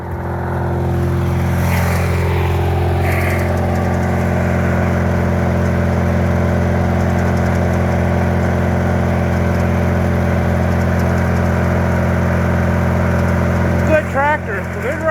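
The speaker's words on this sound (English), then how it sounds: "Tractor, good running tractor, even though it don't run right." A cold MTD lawn tractor engine running with the choke out, a steady loud droning idle with a low, even hum throughout, ending in a brief burst of rattling near the end.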